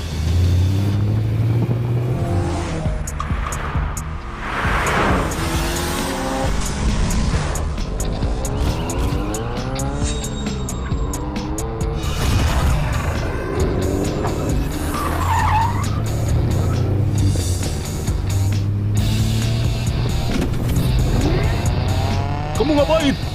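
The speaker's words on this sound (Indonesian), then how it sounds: "ada mobil yang naik sangat cepat" Race cars roar past at high speed with tires squealing and skidding, engines revving loud and close throughout, under excited talk.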